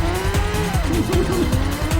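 Racing cars in the video game Crazy Car, with engines revving and tires squealing in wavering tones over a steady loud rumble.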